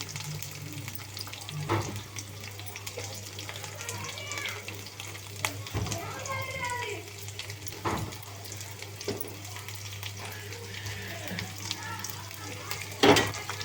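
Green chillies and chopped onion fry lightly in a pan, giving a soft, continuous sizzle with occasional stirring clatter, with speech intermittently over it.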